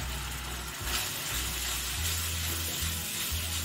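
Tomato puree frying in a pan with garlic and ginger gives a steady, even sizzle over a low hum from a nearby burner or fan.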